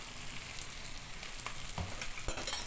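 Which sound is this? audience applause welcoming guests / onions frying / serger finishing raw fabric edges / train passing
onions frying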